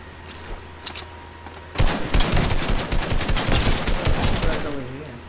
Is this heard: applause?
no